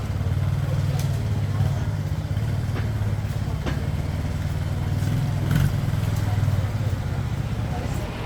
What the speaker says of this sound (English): So there are scooters zipping around everywhere